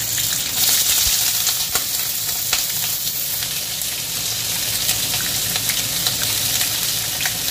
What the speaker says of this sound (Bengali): এবার এটাকে একটু লাল লাল করে ভেজে নেব।